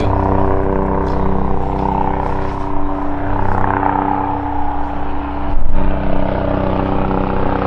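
A Toyota AE86 engine idles steadily with a loud, low rumbling drone, a slight rev swell near the end, heard close up with no talking.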